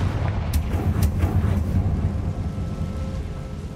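Confringo fire-blast spell cast in the Hogwarts Legacy video game: a deep, booming burst with sharp crackling hits early on, then a sustained low rumble that fades slowly.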